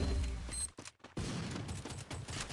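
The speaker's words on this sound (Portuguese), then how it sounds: "muita bomba sendo lançada" Rapid gunfire and explosions from a Free Fire battle royale match, dense and loud throughout, with a brief near-silent gap around the one-second mark before the barrage resumes.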